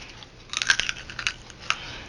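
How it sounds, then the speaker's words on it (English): Close crunching of someone eating while mixed greens and bacon are being cooked in a home kitchen, a few crisp bites clustered together, loud and near. "You're crunching in the camera."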